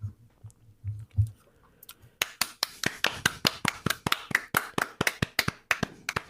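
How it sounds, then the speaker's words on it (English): Sparse, unenthusiastic clapping from a small group, the sharp hand claps sounding sharp and close in an uneven rhythm that begins hesitantly and settles into a steady patter after a couple of seconds. "Tepid clapping."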